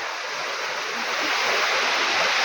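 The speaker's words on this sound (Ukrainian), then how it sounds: "Водоспад Сопіт." The Sopit waterfall in the Carpathian mountains roars with a steady, dense rush of falling water. It is loud and close throughout, with no pauses.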